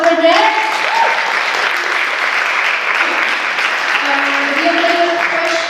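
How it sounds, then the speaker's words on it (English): A seated audience at a Queer Stories 2019 event breaks into dense, sustained applause that carries on evenly for several seconds without letup. "Can we give a round of applause for that?"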